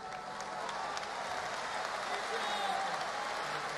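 Applause from a crowd at a live rap battle final, a steady, dense wash of clapping and cheering that fills the space throughout, with voices mixed into the noise.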